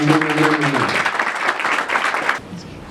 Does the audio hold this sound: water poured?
no